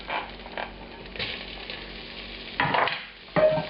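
Beef for chilli con carne browns in a pan while it is stirred around, a steady sizzle with scraping strokes that swell in louder bursts toward the end, no voices.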